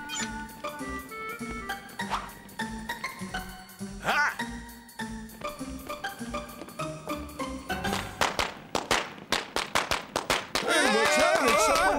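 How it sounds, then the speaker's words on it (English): Popcorn popping in a cartoon: a quick, loud cluster of sharp pops builds near the end, following a tinkling musical score that plays alone. "Nobody's shooting at us. It's popcorn."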